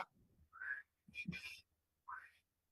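A person whistles a few short, quiet bursts separated by brief pauses, close and soft with faint breathy noise between notes.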